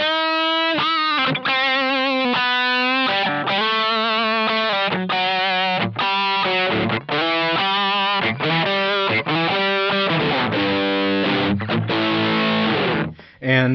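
An electric guitar runs through a Nux XTC overdrive pedal, modeled on a Bogner Ecstasy red channel, with the gain near noon and the tone around three o'clock. Saturated chords and riffs ring out loud and close, with no talking.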